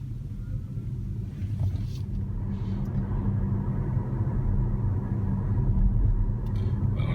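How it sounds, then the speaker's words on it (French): Low steady rumble of a Tesla Model S electric car pulling away under acceleration, a continuous near drone with faint road noise and no engine beats, holding level throughout. "Je pousse sur l'accélérateur, la voiture démarre."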